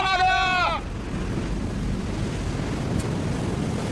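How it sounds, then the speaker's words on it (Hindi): Big ocean storm waves roll in toward the shore as a steady wind-blown roar, with a brief voice-like tone at the start and a continuous surging wash afterwards. "समुद्री लहरें इतनी ऊपर उठकर हमारी तरफ आ रही हैं।"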